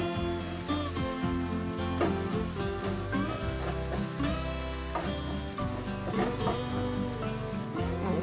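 Zucchini stirred in a hot pan gives a steady sizzle and frying crackle, heard beneath prominent background music.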